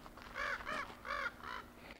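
Meat-eating birds give four harsh, crow-like caws in a quick, uneven sequence, fairly close and clear over a quiet background.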